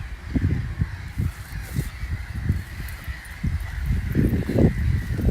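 Many swans honking repeatedly in a noisy, overlapping chorus, loud and close, with a faint hiss of wind behind.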